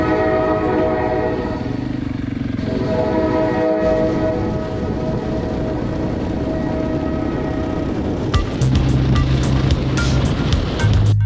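A train rumbles past steadily and loudly while its horn blares in long, drawn-out tones, followed by rhythmic clacking of wheels over rail joints.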